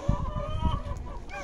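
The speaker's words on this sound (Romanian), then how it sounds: "Uitați-l, acesta este cocoșelul." A young rooster clucks and calls close by in a farmyard, with short throaty bursts over a steady background hum.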